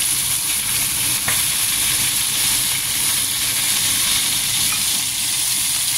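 Chicken frying in a pan over a low flame, a steady close sizzle and hiss running evenly throughout with no voices.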